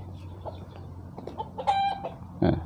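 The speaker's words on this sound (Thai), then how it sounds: "มีไก่ด้วย" Chickens in a backyard coop give a few short clucks and one louder squawking cackle near the end, close and clear over a low steady background hum.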